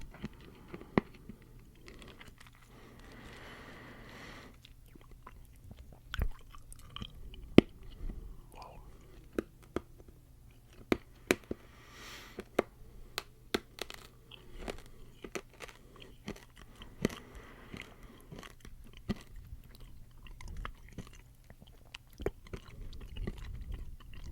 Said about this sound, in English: A little crunch there.